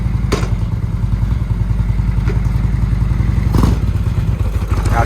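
A Harley motorcycle idles and pulls away with a loud, close, rapid lumpy engine thump, broken by a couple of sharp clacks.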